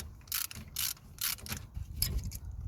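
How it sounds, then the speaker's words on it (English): A 13mm socket wrench ratchets bolts loose on a Toyota Yaris front brake caliper, giving repeated bursts of clicking ratchet action in several short spells, fairly close. "I'm gonna use a 13mm socket to undo the bolts"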